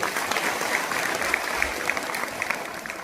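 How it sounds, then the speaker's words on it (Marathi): An audience claps together for the food donors at a devotional kirtan gathering in Varude, a dense, steady patter of applause lasting throughout, with sharper individual claps popping out over the crowd. "त्या अन्नदात्यांकरता यांना सर्वांनी टाळ्या वाजवल्या"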